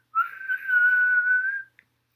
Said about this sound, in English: And he blows his whistle.